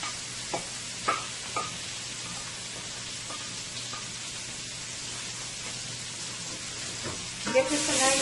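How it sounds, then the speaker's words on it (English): Onion, scallion and chili pepper frying in a pan, a steady soft sizzle throughout with a few sharp clicks of stirring and a louder burst of crackle near the end. "let this fry for about a minute to a minute and a half"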